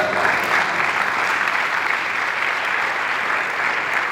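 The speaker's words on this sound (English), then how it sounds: "So you have to give me a round of applause." A seated audience at a university speaker series applauds, a sustained, even roar of many people clapping together that stays loud and unbroken throughout with no speech on top.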